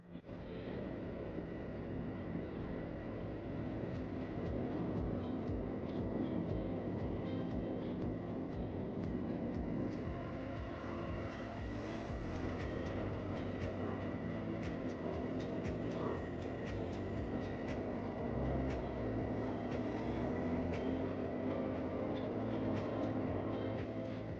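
From inside an Amtrak Lake Shore Limited passenger train, a quiet, continuous rumble and rattle of the moving train carries on steadily throughout, with faint clicks and no voices.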